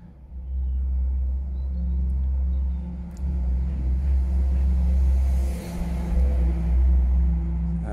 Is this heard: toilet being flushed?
no